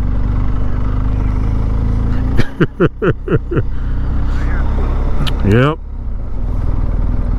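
A 2023 BMW R 1250 GS Adventure motorcycle rumbles steadily close by as it pulls over onto sand, its engine drone continuous throughout, with people talking briefly over it.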